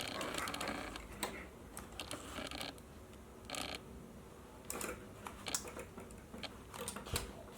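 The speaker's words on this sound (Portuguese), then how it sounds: "com o mesmo posicionamento da agulha da máquina, vocês vão rebater este viés" A sewing machine stitches down bias binding on a zippered organizer pouch, giving a close, uneven mechanical clatter with sharp clicks and short bursts, and no talking.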